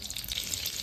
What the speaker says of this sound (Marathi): तेल नंतर आपण त्याच्यामध्ये बटर ॲड करूया, अमूल बटर।